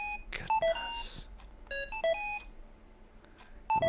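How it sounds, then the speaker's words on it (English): An emergency pager beeping frantically in a point-and-click murder mystery video game, given as repeated bursts of sharp electronic tones, loud and close, with short gaps between. "Your emergency pager starts to beep frantically."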